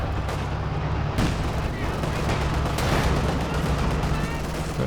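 Gunfire and explosions from a Company of Heroes 2 match between German and Soviet forces crackle and thud repeatedly and loudly, with sharp bursts over a constant low rumble.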